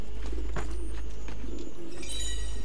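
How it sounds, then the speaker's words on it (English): Soft pigeon coos in the video game Assassin's Creed Brotherhood sound over a steady low hum, a few muffled calls rising briefly through the background noise. "Lovely pigeon sounds."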